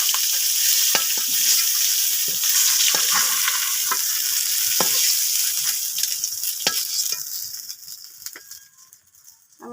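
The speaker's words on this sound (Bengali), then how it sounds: "মাছ ভাজা হয়ে গেছে, এবার নামাই নেব।" Snakehead fish frying in hot oil in a home kitchen, a steady loud sizzle with occasional stirring clicks and pops, the hiss fading toward the end as the pieces are lifted out.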